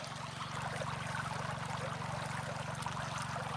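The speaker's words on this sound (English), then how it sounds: "I could listen to this river all day." Creek water rushes steadily over a gold-prospecting dig with hardpack and rock outcroppings, a constant close, full wash with no break, with a low steady hum running underneath.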